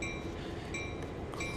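A train in Train Sim 2020 creeps slowly down a siding under light braking, producing a steady low rolling rumble with faint metallic tones and occasional soft clicks, continuous and even throughout.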